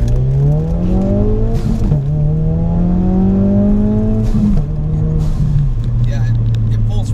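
A 2.3-liter Ford Focus RS engine pulls hard under acceleration, a steady loud drone rising in pitch through the gears with brief dips at shifts, heard from inside the car while people talk over it.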